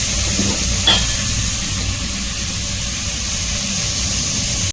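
Potatoes and soaked, cut meal maker sizzle and fry in a pan for a vegetable dish, a steady loud hiss with a brief scrape of stirring near the start and no talk.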